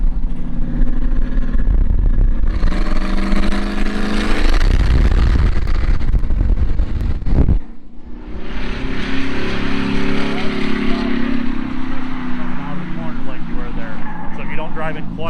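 A rental car's engine roars and revs loudly as it drives laps around a track, a sustained close, heavy drone with a brief drop in the middle before the engine pulls hard again.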